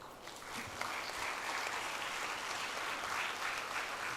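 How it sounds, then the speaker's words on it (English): Audience applause at a medical college graduation ceremony, a broad steady wash of many hands clapping together that holds at an even, fairly loud level throughout with no voices over it. "Once again, just give applause to your Mata Pita."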